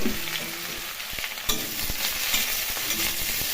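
Eggplant frying in oil with garlic and onion, a continuous crackling sizzle broken by a few spatula scrapes and taps against the pan, close and without talk.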